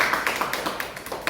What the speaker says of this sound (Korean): 우리 축하의 박수 한번 드릴게요